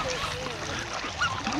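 Waterfowl and gulls at a wetland centre squabble and splash in a noisy feeding frenzy, with quacks and honks crowding close together under a voice speaking.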